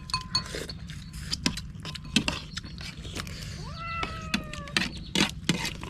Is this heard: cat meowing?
yes